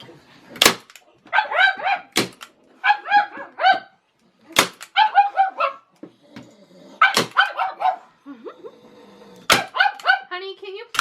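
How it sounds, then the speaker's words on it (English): A dog barks sharply several times, each bark followed by rapid yips and whining bursts, loud and close, with quiet pauses between. "Don't mind my dog, she gets real cranky at"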